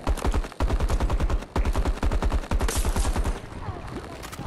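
AK-5C assault rifle firing in Battlefield 2042, loud rapid automatic bursts in three or four strings separated by short pauses, close and dominant with no talk over it.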